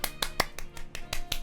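One person claps about seven times in a quick, slightly uneven run, the sharp close claps sounding thin and dry with no crowd around them.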